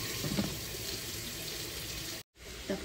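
Water poured from a tap or cup into a cooking pan while bopis is cooked, a steady running, splashing wash heard close and alone, broken by a brief gap near the end.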